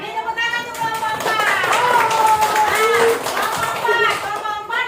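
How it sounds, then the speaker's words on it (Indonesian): Children in a classroom clap for group 4, quick overlapping hand claps under lively high-pitched kid voices and chatter, close and fairly loud throughout. "beri tepuk tangan untuk kelompok 4"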